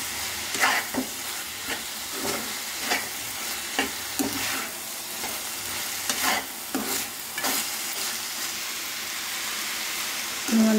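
Tamarind leaves (chintakura) fry in a pan with a steady sizzle, broken by repeated sharp scrapes and knocks of a spoon stirring at irregular intervals, close and fairly loud.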